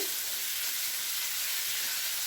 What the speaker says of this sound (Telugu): ఉల్లిపాయలు వేస్తున్నాయండి వేరే స్టవ్ మీద వెజ్జులు వేసుకొని వేయించుకుందామండి